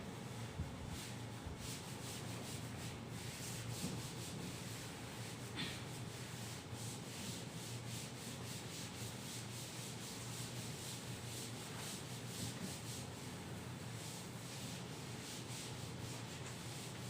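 Steady rubbing of a duster wiping writing off a classroom board, a soft continuous scraping that goes on without pause and without talk.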